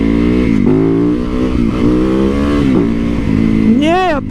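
A motorcycle engine revs hard and loud up close, its pitch surging and dropping through repeated throttle blips before climbing sharply at the end, with a voice also present under the engine.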